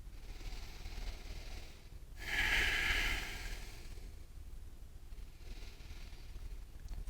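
Slow breaths drawn during a yoga forward fold, a swelling exhale standing out in the middle, soft and close against a low steady hiss, with no talking.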